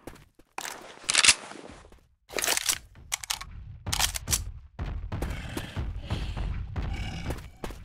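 Gunfire in Left 4 Dead 2 as players shoot at the Tank, with irregular bursts of loud, crunchy shots separated by short gaps, then denser rattling fire with impacts toward the end.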